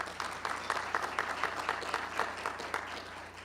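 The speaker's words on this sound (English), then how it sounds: "A round of applause," Audience applause for team leaders at a regional community meeting, a steady wash of many hands clapping at moderate distance that holds evenly across the whole stretch.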